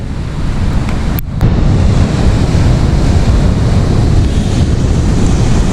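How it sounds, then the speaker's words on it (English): Big sea waves roll in and break continuously on the shale beach at Sandsend on the Yorkshire coast in January, a loud, close roar of surf with wind buffeting the microphone. "big waves come straight to you"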